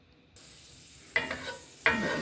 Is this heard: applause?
no